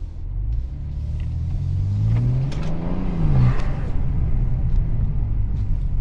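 A BMW G87 M2 engine with front-mount intakes revs up and settles back, a deep throaty rumble with a rising and falling growl, heard close by over a steady idle.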